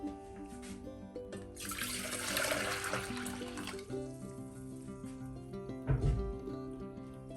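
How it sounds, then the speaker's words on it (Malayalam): Hot water is poured into a bowl in a faint, rushing splash lasting a couple of seconds, with a small clink afterward and quiet music underneath. "കുറച്ച് ചൂടുവെള്ളം ഒഴിക്കുക"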